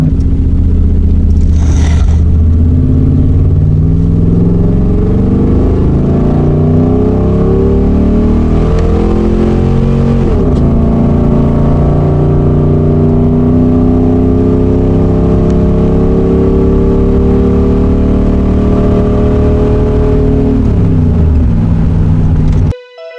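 Loud, smoky $800 pickup truck engine roaring as it drives, with steady revving and gear changes shifting the pitch, close and continuous throughout, with a brief honk near the start.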